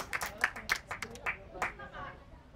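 Small audience at a stand-up comedy show clapping for the comedian, a handful of sharp, separate claps close by that thin out into murmuring, fairly quiet overall.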